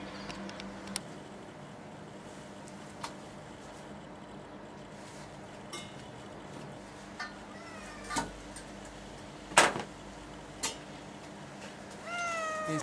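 House cat meowing indoors in a handful of short, scattered cries amid ticks and light clatter, fairly faint with long quiet gaps between calls.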